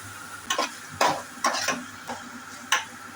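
Chopped onions and carrot frying in a pan, a low steady sizzle broken by about six short scraping stirs of a spatula, close and alone without talk.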